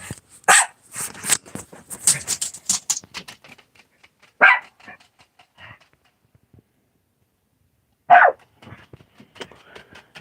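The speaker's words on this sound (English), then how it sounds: "I don't think he's gonna purr with Blue barking." A dog barks in a few sharp bursts, close by, with short yips and pauses between them and quiet stretches in the gaps.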